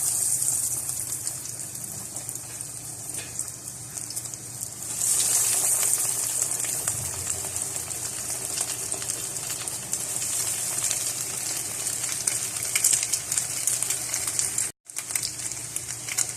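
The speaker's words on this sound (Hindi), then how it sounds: "फ्राई पैन के अंदर मैंने ऑयल रखा है। अब हम इसको फ्राई करते हैं।" Chicken bread rolls fry in oil in a frying pan, giving a continuous loud, close sizzling hiss that brightens after a few seconds and runs steadily, broken only by a brief dropout near the end.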